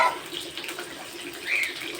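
Tap water runs steadily over raw meat being washed in a kitchen sink before cooking chicken biryani, a continuous moderate splashing hiss with brief brighter surges.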